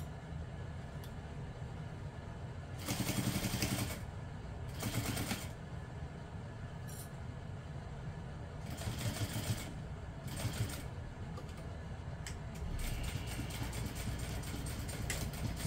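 A domestic sewing machine backstitches across connectors on a small fabric apothecary handbag in several short, rattling bursts of stitching, separated by quiet pauses and a steady background hiss.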